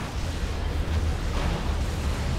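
Explosive rumble of a Basilisk Flare artillery shell in the Dawn of War 2 strategy game, a sustained, loud, noisy blast texture with deep low-end booms running throughout.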